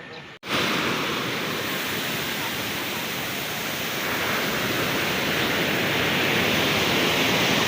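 Strong sea waves break and surge along a shore in one continuous, loud roar of surf after a brief drop at the start, with no voices.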